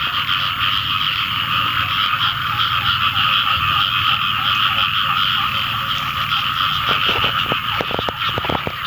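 A dense chorus of frogs croaks continuously after the first rain of the season, loud and steady, with some sharper nearby clicks toward the end.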